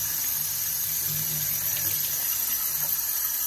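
Lukewarm water runs steadily from a kitchen tap while a bun dough of yeast, sugar and salt is being prepared, a continuous close hiss and splash that holds at an even level throughout.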